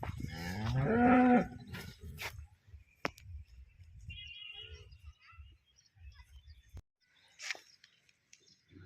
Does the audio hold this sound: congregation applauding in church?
no